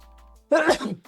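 A single sneeze in a podcast conversation, one sharp loud burst with a breathy tail, close to the microphone, with no speech over it.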